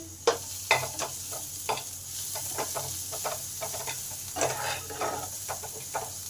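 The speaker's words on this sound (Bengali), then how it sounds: "আদা রসুন পেঁয়াজ লঙ্কা সব ভালো করে আমার ভাজা হয়ে গেছে" Ginger, garlic, onion and chili fry in a pan with a steady close sizzle, broken by frequent scraping and knocking strokes of a spatula stirring.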